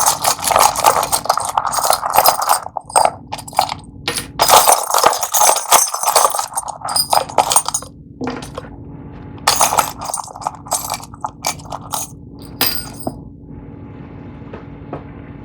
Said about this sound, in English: I just shuffle several times until I feel like it's time to stop.